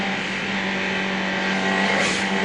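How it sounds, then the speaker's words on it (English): A Caltex Holden Sierra touring car, number 8, screams along at the 1991 Bathurst 1000, heard from an onboard camera as a loud, sustained high engine drone that rises slightly toward the end. "Bad luck to Brian as we take our race cam. Sitting on top of Colin Bond's Caltex Sierra, car number 8."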